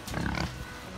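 Pigs on a small homestead grunt and oink in a short, close burst of several snorts that trails off into quieter background noise.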